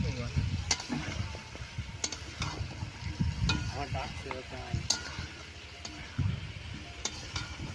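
Fried potatoes tipped into chicken cooking in a pot in a village kitchen, giving a soft sizzle with scraping stirs and clinks of utensil on metal, while people talk nearby.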